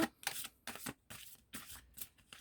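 Tarot cards are shuffled and handled at close range, with about five crisp, papery riffling bursts separated by short pauses and no voices.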